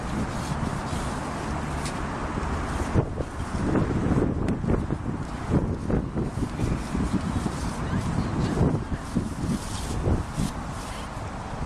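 Outdoor wind gusts roughly across the microphone in a loud, continuous rumble that swells and eases, with faint rustling and buffeting underneath throughout.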